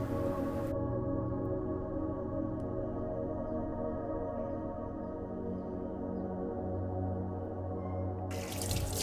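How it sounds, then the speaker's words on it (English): Running tap water rinses a greasy espresso machine part washed with dishwashing soap, a steady splashing flow holding throughout at close range, with no talking. "I used a regular dishwashing soap to clean the surface and also scrape off some of the grime in the threads."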